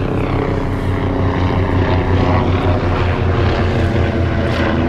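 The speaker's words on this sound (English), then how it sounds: "Should we let that helicopter go over?" A helicopter passes overhead on an urban photowalk, its loud, steady rotor and engine drone filling the whole stretch without pause, with no talking over it.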